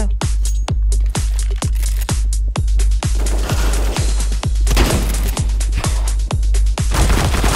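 Rapid gunfire in Counter-Strike: Global Offensive, a bomb-defusal match with a heavy pistol: about a dozen sharp, evenly spaced shots that thicken into a dense, loud burst of overlapping fire toward the end.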